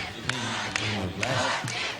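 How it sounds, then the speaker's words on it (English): Crowd at a high school football game cheering and shouting together, a dense, loud roar of many voices with a few sharp claps or thumps through it. "You hear the crowd starting to cheer Northview."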